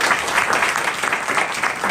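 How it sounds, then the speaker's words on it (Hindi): An audience at a Christian convention in Chhindwara claps together, a loud, dense burst of many hands that stays full and steady for the short stretch, with no speech over it. "क्या आप ताली देंगे?"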